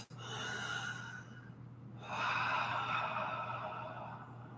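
Deep breathing during a yoga session, with a long, audible, airy inhale followed by a fuller, louder exhale, close and continuous over a low steady hum.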